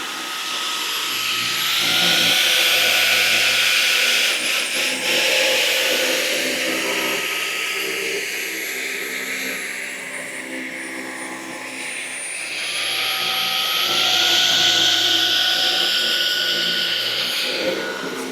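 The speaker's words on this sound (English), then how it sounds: "what I was testing there is just the suction power difference when it's on this flooring compared to the tiles" Dyson V15s Detect Submarine cordless vacuum cleaner running on flooring, a loud steady whine and airy rush whose pitch dips and rises as the suction changes, continuous and close with no talk.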